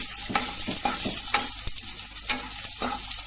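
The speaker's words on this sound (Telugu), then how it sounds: "స్మాల్ సైజ్ ఆనియన్, అల్లము, తెల్లగడ్డ, కొబ్బరి అన్నీ వేసుకొని నూనెలో వేయించాలండి" Small onions, ginger, garlic and coconut fry in oil for a mutton curry, sizzling loudly while a spoon stirs and scrapes the pan in repeated strokes.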